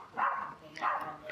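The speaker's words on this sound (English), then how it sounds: "Very noisy dog there." Outdoors beside a woodcarving spot, a neighbouring dog lets out two loud bark bursts spaced under a second apart, heard at moderate distance over quiet background.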